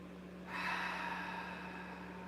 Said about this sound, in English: Let's take a cleansing breath here, a big full breath in